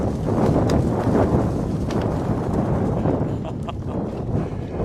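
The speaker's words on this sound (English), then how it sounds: "It is gusting here in Charlottetown." Strong gusting wind buffets the microphone at an outdoor university field hockey championship game in Charlottetown, a loud, continuous low roar with no clear breaks.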